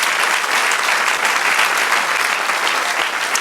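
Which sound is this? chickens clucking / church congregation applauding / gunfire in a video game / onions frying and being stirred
church congregation applauding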